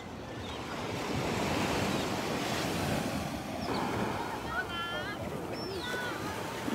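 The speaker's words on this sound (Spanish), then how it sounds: "Pues así lo saluda el mar el día de hoy. Está muy, muy tranquila la playa." Calm sea waves washing onto a quiet beach at Guayabitos at sunrise, a steady soft surf with wind noise on the microphone and birds calling faintly over it, with no talking.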